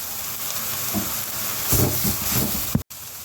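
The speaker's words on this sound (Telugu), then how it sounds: "ఇప్పుడు అల్లం వెల్లుల్లి పేస్ట్ వేస్తున్నాను, ఒక పెద్ద స్పూను" Ginger garlic paste fries with prawn shells in a pan, giving a steady close sizzle with a few stirring scrapes and a sharp clack near the end.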